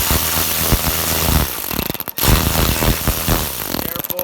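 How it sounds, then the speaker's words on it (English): A small ratchet with a 1/2 inch socket backs bolts out of the carburetor on a Troy-Bilt Storm 2620 snow thrower, heard as a loud, dense ratcheting rattle close up that stutters briefly midway, with no talk. "And basically just use a small ratchet."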